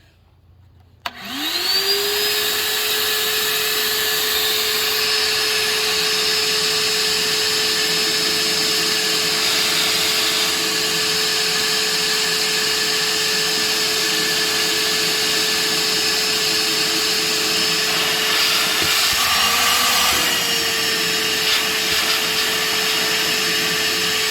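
A vacuum cleaner starts with a thump and whines loudly and steadily near a manual injection pump on a Cat 3406B engine, its pitch briefly rising and dipping as the suction shifts partway through.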